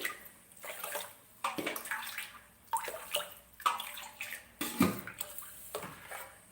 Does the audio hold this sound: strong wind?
no